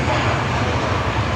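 Jetstar Airbus A321 engines roaring on the takeoff roll at Sydney Airport, a broad, loud and steady rumble heard from outside the aircraft.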